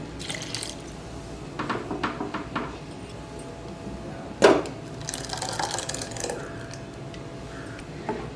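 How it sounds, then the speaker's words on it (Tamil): Dal soaking water is poured into a kitchen grinder jar, making soft watery trickles and drips with a brief louder splash midway, at a fairly quiet level and without speech. "நான் பருப்பு ஊற வச்ச தண்ணியை இதில் சேர்த்துக்கிறேன்."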